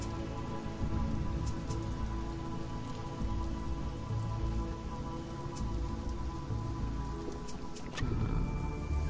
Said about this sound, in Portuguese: Chuva negra na superfície.